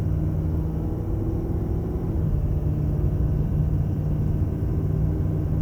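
Low, steady rumble of a 2019 Ford F250 XLT Powerstroke diesel 4x4 crew cab accelerating under turbo boost, heard from inside the cab as a smooth, continuous drone with no talking.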